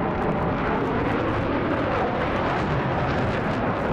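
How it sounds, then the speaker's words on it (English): A helicopter strafing in Battlefield 3 on Operation Firestorm, a dense roaring wash of rotor and engine noise mixed with rumbling fire, loud and continuous throughout with no talk. "Oh, strafing is one of your helicopter pilots is trying to strafe us."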